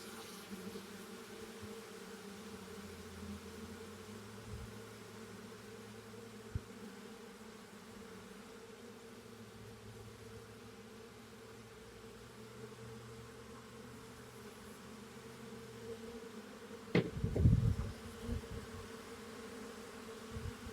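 Honey bees buzz steadily around a smoked backyard hive as foragers fly out, a soft, continuous droning hum with a louder brief rustle and thump near the end.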